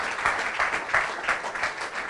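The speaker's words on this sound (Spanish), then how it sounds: "Give that strong applause to the Lord." A church congregation applauds during a sermon, giving brief, rhythmic bursts of clapping at a moderate distance with no voices over them.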